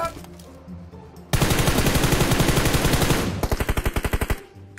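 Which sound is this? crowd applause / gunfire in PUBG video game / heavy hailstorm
gunfire in PUBG video game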